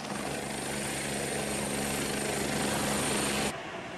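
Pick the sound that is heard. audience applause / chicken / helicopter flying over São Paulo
helicopter flying over São Paulo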